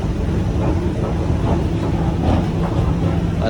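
A train rumbles steadily at Rajkot railway station, with a continuous low, dense roar of rolling wagons that stays loud and even throughout.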